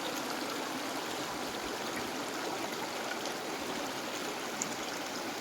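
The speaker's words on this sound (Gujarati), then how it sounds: "જોઈ લ્યો કેવું સરસ આમ પાણી જાય છે નદીનો કાંઠો ને આમ જોઈ લ્યો કેવો અવાજ આવે છે પાણીનો" River water flows along a riverbank in a steady broadband rush and gurgle, constant and fairly close with no pauses and no voices.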